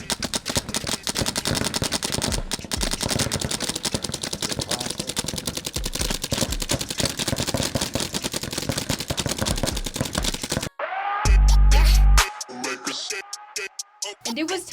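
A toy blaster rattles off rapid-fire shots in a dense, relentless stream for about ten seconds, then stops abruptly, and a few voices and clatter follow close by.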